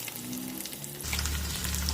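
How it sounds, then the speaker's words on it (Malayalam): Mackerel fries in hot oil with curry leaves, a close, dense crackling sizzle that swells noticeably louder halfway through. "ഒരു പാത്രത്തിൽ എണ്ണ ഒഴിച്ച് കറിവേപ്പിലയിട്ട് മീൻ വറുത്തെടുക്കും"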